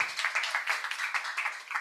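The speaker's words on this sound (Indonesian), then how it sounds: "Ya, tepuk tangan lagi buat Pak Dedi." Applause breaks out for Pak Dedi at a company leadership meeting: a dense, steady patter of many hands clapping at close range for about two seconds, with no clear talk over it.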